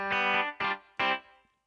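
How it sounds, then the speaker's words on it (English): Three bright, harmonically rich synthesized tones from a Ketron Event keyboard sound in succession, each held briefly and then left to trail off in a reverb tail, with a short fading decay after the last. "now reverb section where I can control how much reverb I want to have"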